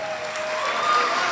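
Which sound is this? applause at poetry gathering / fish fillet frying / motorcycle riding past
applause at poetry gathering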